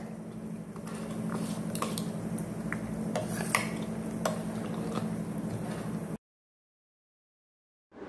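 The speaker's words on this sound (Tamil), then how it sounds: "இப்போ எல்லாத்தையும் நல்லா கலந்து விட்டுருங்க" Raw beetroot, onion, chili, curry leaves and salt being stirred together in a bowl, a steady wet squishing with light clinks of a spoon against the dish, continuous for about six seconds before going silent.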